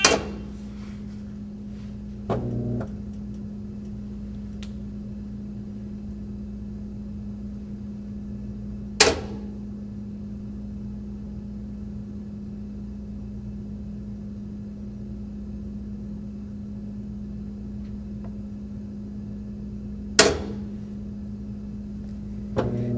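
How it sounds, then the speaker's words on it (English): A Kenmore high-efficiency top-load washer lid locks, unlocks and locks again, three sharp mechanical clunks spaced several seconds apart over a steady low appliance hum. "you will hear the lid lock, unlock, and lock again in order to allow for proper load sensing"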